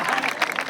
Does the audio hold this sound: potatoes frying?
no